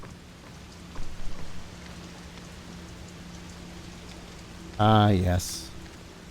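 Steady rain hiss in the Fatal Frame: Maiden of Black Water video game, a soft continuous wash running throughout at a low, even level, with a brief spoken interjection near the end.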